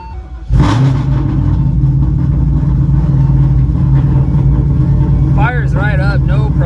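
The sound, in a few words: cold start of a Shelby GT500 engine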